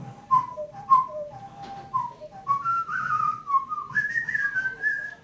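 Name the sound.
person whistling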